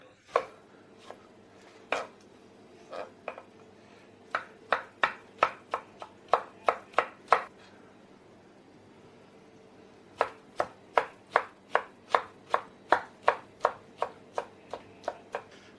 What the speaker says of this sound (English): we're going to chop this up.